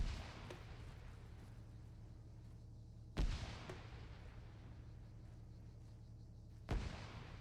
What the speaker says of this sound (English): Behind those containers. Firing grenade launchers.